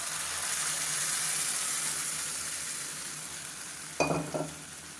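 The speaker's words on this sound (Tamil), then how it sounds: "எவ்வளோவுக்கு தண்ணி வேணுமோ அந்தளவுக்கு தண்ணி ஊற்றி கலந்துக்கோங்க." Browned onion mixture being stirred in a pan after water is added, a steady low sizzle throughout, with a few brief louder scrapes and clatters of the spoon near the end.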